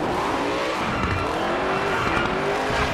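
A Ford Mustang drifting in the V-Rally 4 racing game, loud engine drone with continuous sliding tire squeal layered over it, steady and close for the whole stretch.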